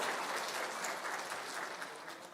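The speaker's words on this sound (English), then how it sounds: "So can we give our parents a loud applause for their partnership?" Soft, steady applause from an audience at a kindergarten graduation ceremony, continuous clapping heard at a distance and fairly faint.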